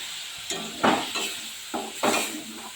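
Spice masala for ghugni being stirred in a pan, with several distinct scraping strokes of a spatula over a soft sizzle, close and clear with no voices.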